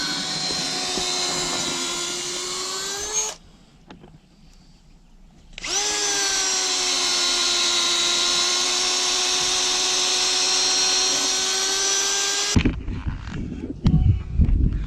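Power drill boring a pin hole into a wooden post for a fence H brace, a loud steady whine in two long runs separated by a short pause, ending with clattering handling noise.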